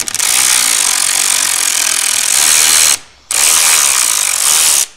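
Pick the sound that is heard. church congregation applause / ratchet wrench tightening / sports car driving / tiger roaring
ratchet wrench tightening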